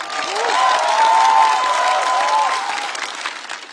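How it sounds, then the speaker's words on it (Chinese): A studio audience on a Chinese roast comedy stage applauds He Jie, with a dense, steady wave of clapping and some cheering that swells early and tapers slightly toward the end. "再次掌声送给何洁。"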